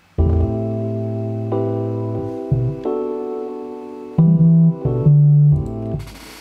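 A synth bass line with no legato glide plays alone, a series of sustained, buzzy held notes that jump abruptly from pitch to pitch with hard, separate attacks.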